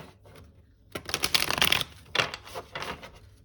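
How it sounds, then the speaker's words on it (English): A tarot deck is riffled and shuffled in quick bursts of crisp flapping, close and clear, with short pauses between shuffles. "we'll do one last shuffle"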